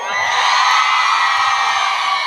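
Large crowd at a half marathon roaring with sustained cheers, whoops and shouts, loud and continuous without a break.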